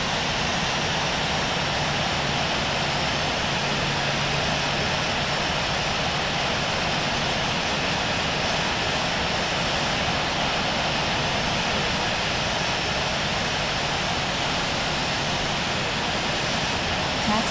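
A steady, loud jet-engine drone from an airliner taxiing toward runway 16 left at Seattle airport in the Infinite Flight game. The hum stays constant throughout, with a faint voice occasionally underneath.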